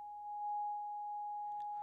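A steady, pure electronic tone generated by a Web Audio oscillator, imitating the loading signal of a 1980s ZX Spectrum cassette, holds at one pitch throughout, loud and alone, with a faint scratchy burst near the end.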